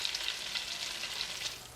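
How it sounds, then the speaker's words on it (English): An egg-and-butter-dipped sandwich sizzles steadily in a hot skillet, a continuous close crackle with small pops and no talking. "Place it on the skillet and hear it sizzle."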